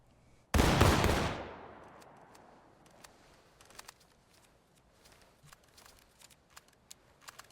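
A rear-rank musket volley in the War of Rights game cracks out as one loud, near blast, then its long rumbling echo fades over several seconds while faint scattered pops and clicks follow.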